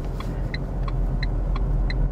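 A car pulls into a roundabout, its steady low engine and road rumble close and continuous, with faint regular ticking of an indicator over the top.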